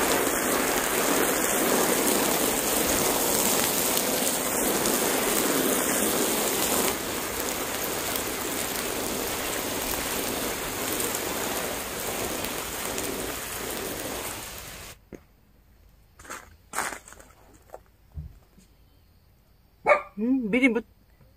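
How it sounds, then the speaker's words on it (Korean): Water poured generously over potted hydrangea cuttings, a steady hissing splash for about fifteen seconds, then quiet with a few scattered knocks and brief sounds near the end. "자, 물 먼저 주겠습니다. 물을 아주 충분히."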